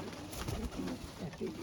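Pigeons coo softly nearby in a short burst of low, rounded calls, faint and partly mixed with background noise and murmured talk.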